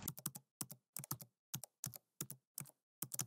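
Keys on a computer keyboard clatter in quick bursts of two to four strokes with short pauses between, crisp and close, as a title is typed.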